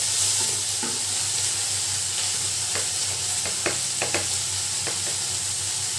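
Chopped tomato frying in a pan for a small-fish sour curry, a steady bright sizzle with occasional scraping stir clicks, close and continuous without talk.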